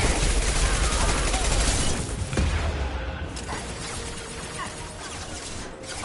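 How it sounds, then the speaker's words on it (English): Enemy missile fire in the Mass Effect 2 video game: a dense, continuous barrage of bursting gunfire and crashing blasts, loud at first and then easing to a steadier rumble of combat. "They should not be shooting missiles 3 fucking times."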